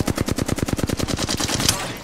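Rapid automatic gunfire in the video game Apex Legends, a fast burst of evenly spaced shots that is loud and close and runs for about two seconds before stopping, with no talking over it.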